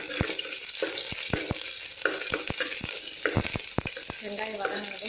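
Onions sautéing in oil with popped mustard seeds in a pan for a drumstick-leaf dal curry, a steady close sizzle broken by sharp, irregular clicks of a spoon stirring against the pan.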